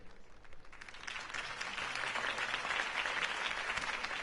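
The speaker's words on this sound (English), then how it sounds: "could have heard that applause" Steady applause from a large crowd in a video game, loud and sustained, rising slightly as the clapping builds.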